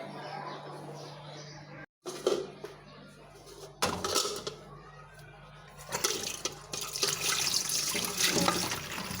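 Water runs from a kitchen tap with some surging and splashing, loud and near, broken by a brief gap, as items are set to soak in a sink. A voice talks faintly at times.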